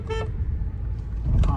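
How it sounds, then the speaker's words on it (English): The horn of a 2021 Kia Soul with a manual transmission gives two short, close toots about a second apart over a low engine rumble. "Honk honk."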